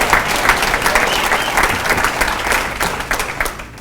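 A crowd at a high school Hall of Fame ceremony applauds and cheers steadily, with dense, loud clapping that continues without a break.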